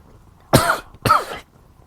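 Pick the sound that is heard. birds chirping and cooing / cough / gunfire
cough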